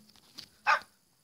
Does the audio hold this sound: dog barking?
yes